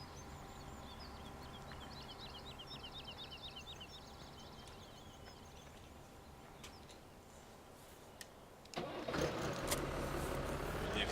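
A New Holland tractor engine in Farming Simulator 17 cranks and fires near the end, a brief starter burst rising into a loud running roar after a stretch of quieter low engine hum and faint chirps.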